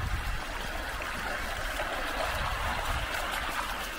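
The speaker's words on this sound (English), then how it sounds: "Chilling by the river." A river at Malmsmead in Lorna Doone country runs in a steady, close rush and babble of flowing water, continuous and even, with no voices over it.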